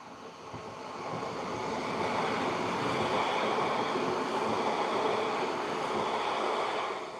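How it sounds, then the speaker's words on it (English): Class 33 locomotive 33331 bound for Blackpool, heard as a broad steady rumble and rush that builds in the first second and then holds, fairly close, with no speech. "here we have a 33331 going to Blackpool"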